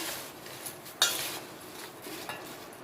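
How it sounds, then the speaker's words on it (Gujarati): Papad snack gets tossed with spices in a bowl, giving soft rustling stirs and one sharp clink of a spoon against the bowl, fairly quiet with no talk. "સરસ આ રીતે મિક્સ કરી લઈશું"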